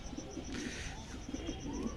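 Pigeons cooing softly in a loft in a repeated low murmur, somewhat distant, over steady background noise with a faint high ringing tone.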